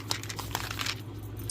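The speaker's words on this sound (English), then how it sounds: "I'm just going to open this and get the paper off of it" Packing paper crinkles and crumples as a parcel holding a resin-art item is unwrapped, with close, continuous rustling and a few sharper crackles throughout.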